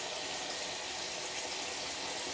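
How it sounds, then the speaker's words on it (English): Cold water runs from a tap onto a cloth in a steady, even hiss that goes on without a break. "I will add the cold water to my cloth"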